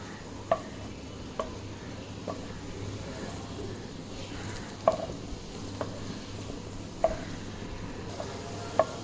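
Fried onions lifted from hot oil in a pan, a steady soft sizzle with sharp clicks of a utensil against the pan at irregular intervals.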